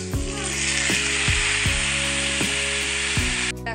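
Rice for khichuri frying in a pan gives a steady bright sizzle, with a low mechanical hum underneath and regular faint scrapes or taps recurring about every half second, no talking.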